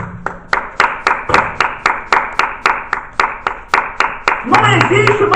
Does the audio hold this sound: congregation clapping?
yes